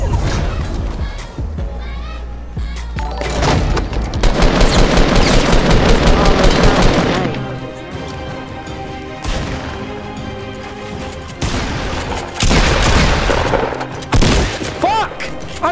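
Rapid bursts of gunfire in the video game Fortnite, loud and dense in repeated volleys with crashes and impacts between, over steady game sound.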